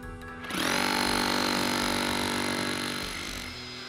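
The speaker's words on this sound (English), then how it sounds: "I'm gonna go ahead and plug his power tool in" A power tool used to break into a safe whirs up after a short pause and runs at a high, steady whine, then eases slightly toward the end.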